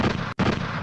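A gunshot sound effect: a short, loud, dense burst of gunfire, cut by a brief split-second gap, with no voices.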